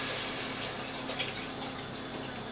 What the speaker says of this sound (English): Pour that into the dish